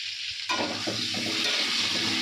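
Steady, loud sizzling of potatoes frying in hot oil, a dense continuous crackle that jumps up sharply after a brief quieter start.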